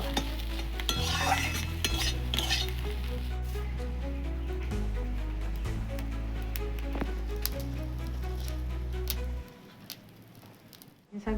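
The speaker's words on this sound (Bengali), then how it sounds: "পোস্ত দিয়ে এবার ভেজে একটু নাড়তে হবে" Potatoes with poppy seeds stir-frying in a pan, a steady sizzle with scraping stirs over low, constant background tones, until the frying sound drops away near the end.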